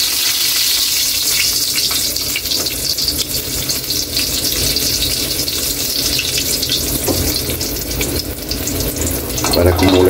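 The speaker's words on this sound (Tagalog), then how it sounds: "Kaylee, mainit na yung mantika natin. Ilulublog lang natin ang ating aswiti para kumulay." Continuous loud crackling sizzle of annatto seeds frying in hot oil, close and steady throughout, with a slight stirring clatter near the end.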